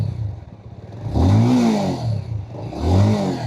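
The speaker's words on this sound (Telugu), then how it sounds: "ఒక్కసారి మీకు రెవ్ ఇచ్చి వినిపిస్తాను సౌండ్ అనేది." A 2026 Bajaj Avenger 220 cruiser motorcycle engine idles, then is revved twice in quick blips that rise and fall, close to the microphone.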